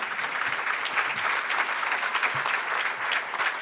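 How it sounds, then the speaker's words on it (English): Sustained audience applause from a crowd at a public forum on Chicago public schools, steady dense clapping throughout with no talking. "Big round of applause for Mr."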